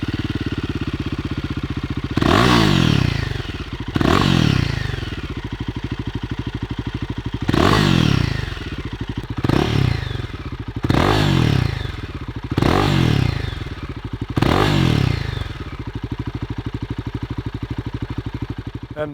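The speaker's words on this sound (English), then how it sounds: "I'll fire it up so the listeners can hear the end can" Royal Enfield motorcycle engine running through an aftermarket end can exhaust, a close thumping idle broken by about six sharp blips of the throttle that rise and fall in quick succession.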